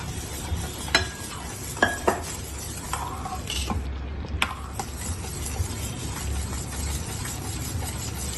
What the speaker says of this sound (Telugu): ఈ రవ్వ వేగుతా ఉంది కదా, దాంట్లో వేసేసుకోవాలి.